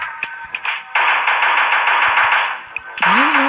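Loud, rapid automatic gunfire in a zombie shooter video game: a few scattered taps, then a sustained burst, a brief break, and another close stream of fire.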